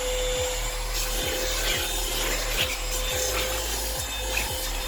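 A BlitzWolf BW AR182 cordless vacuum cleaner runs with a steady loud motor whine, overlaid by regular scraping pulses roughly every half second as it is pushed back and forth close by.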